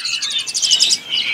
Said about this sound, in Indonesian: di sini juga ada yang namanya burung Jalaksuren ya